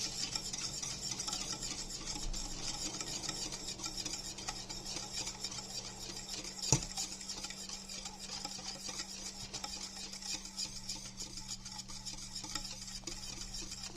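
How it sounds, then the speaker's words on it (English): Boiling dandelion jelly with sugar and pectin is stirred vigorously in a pot, giving a continuous scraping, rasping churn with a faint bubbling sizzle and one brief knock. "we're just gonna stir this vigorously for a couple of minutes to make sure that our pectin is"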